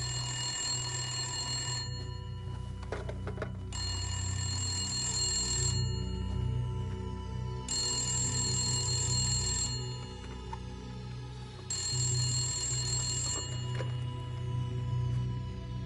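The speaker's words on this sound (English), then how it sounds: "It's been ringing incessantly." An old-style telephone bell rings in repeated bursts, each about two seconds long with short pauses between, loud and close above a low background hum.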